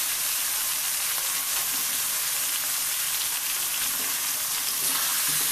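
Spices fry in mustard oil for a chicken and potato curry, a loud, steady, rain-like sizzle close up that runs unbroken throughout with faint stirring underneath.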